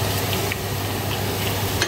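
Fried spices hit hot oil with golden-brown onions in a pan, giving a steady, close, dense sizzle that stays even throughout, with a few faint clinks of stirring.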